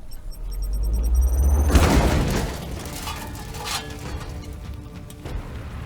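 A grenade goes off in Chaos Gate with a deep, booming blast that swells and fades over a couple of seconds, followed by lower crackling debris and scattered thumps.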